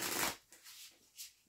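A deck of Mythos Tarot cards is shuffled up close, one loud riffling burst followed by a few softer shuffles, with no voices.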